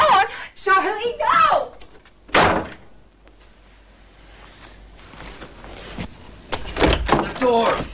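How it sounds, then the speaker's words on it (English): A door slams hard in a 1988 horror film scene: one loud, heavy bang between frantic shouted dialogue, with a second thud and more shouting afterward. "The door!"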